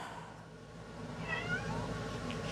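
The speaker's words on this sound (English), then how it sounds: "I know y'all just heard my kitty cat." A pet cat meows indoors, a single faint drawn-out meow heard fairly close over low room noise.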